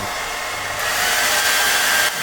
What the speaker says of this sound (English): I even can run the hairdryer at the same time.